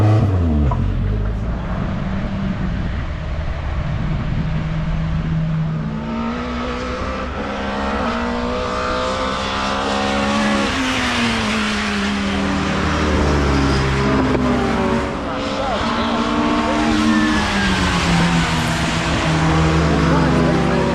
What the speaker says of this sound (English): This is Neil's car, so it's a Mark II Zack-Speed Escort with a Ford Warrior engine in that we built for him a couple of months ago